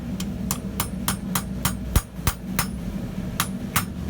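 A blacksmith hammers a high carbon steel test piece straight on an anvil, a steady run of about a dozen sharp, ringing metallic strikes, close and loud, at a quick even rhythm.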